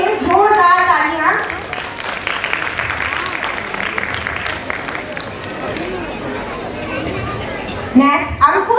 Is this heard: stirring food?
no